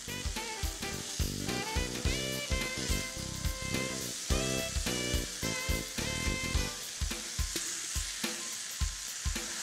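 Strawberries sear and caramelize in a hot pan, a steady sizzle of frying fruit glaze with stirring scrapes, backed by a bright musical bed.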